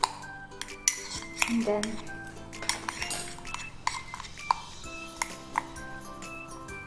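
A spoon stirs a tablespoon of brown sugar into ingredients in a mug, making repeated clinks and scrapes against the sides amid kitchen clatter, with a brief voice in the middle.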